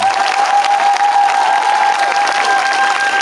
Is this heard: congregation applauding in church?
yes